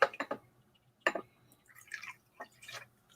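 Old Crow whiskey poured into a glass in short bursts, giving a few close drips and splashes with small clinks and liquid gurgles between brief pauses.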